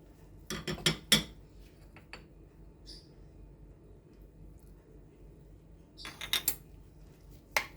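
Utensil clinking against a bowl while mixing squeezed lemon juice with seasoning, two clusters of quick metallic taps and scrapes, close and fairly quiet, separated by a silent pause.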